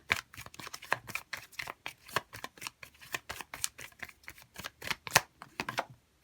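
Tarot cards are shuffled and drawn in a quick, crisp run of riffling flutters and snaps, close and fairly loud, with no talking.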